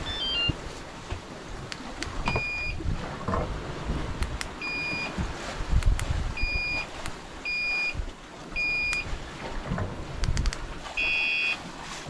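An outboard motor's alarm beeping on a sailing boat at sea: about five evenly spaced short electronic beeps, then a longer louder burst, over steady wind and engine rumble.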